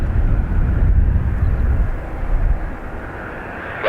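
Airliner DL177 taking off at Dublin Airport, a steady loud low jet roar that holds strong, then eases slightly as it recedes, with no voices.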